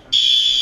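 A hotel fire alarm sounds a loud, steady high-pitched electronic tone at 2 a.m. that starts abruptly after a brief quiet moment and holds without a break.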